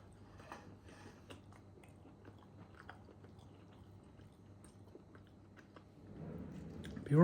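Soft, close chewing and biting on a mouthful of steak, with faint irregular crunching and squishing over a quiet background and a low hum.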